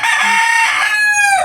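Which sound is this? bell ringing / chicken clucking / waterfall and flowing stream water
chicken clucking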